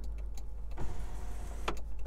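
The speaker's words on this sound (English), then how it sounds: "we have some lights and power sunroof. So I'll pull this back, show you how it works." Electric power sunroof on a 2017 Subaru WRX 2.0 Turbo opening inside the cabin: a soft mechanical click, a smooth motor whir and a second click as it stops, heard up close with no talking.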